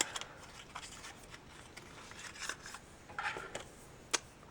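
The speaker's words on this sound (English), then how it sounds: "I always have to kind of rip it to get it open." Product packaging from a monthly lip cosmetics bag is ripped open by hand, with soft crinkling, rubbing and tearing sounds in irregular bursts, quiet and close.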